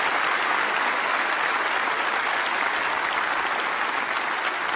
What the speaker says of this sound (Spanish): Quisiéramos darles un buen aplauso.